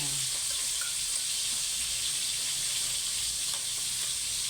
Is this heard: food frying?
yes